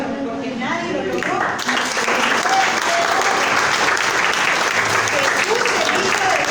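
Church congregation bursting into applause during a Spanish-language sermon, a sharp onset after a brief lead-in, then sustained loud clapping with crowd noise and voices mixed in.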